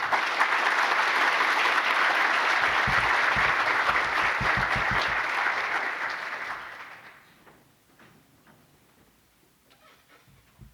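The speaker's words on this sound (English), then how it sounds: "One more round of applause for Dr. Erin Searcy, please." An audience at an academic conference's opening plenary session claps in a steady, sustained round of applause that fades out after about seven seconds into near quiet.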